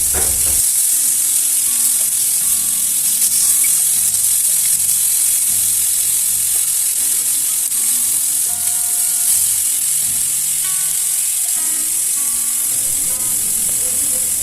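Fish fries in a hot pan for a home-style fish gravy, a dense continuous sizzle with occasional faint clicks and scraping, close and steady throughout.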